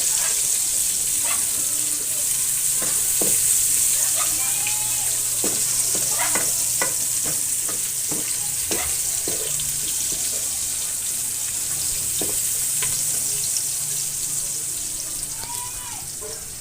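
Onions sizzle steadily in a hot pan, a dense hiss running throughout with scattered scrapes and clinks of a utensil stirring them, close and fairly loud.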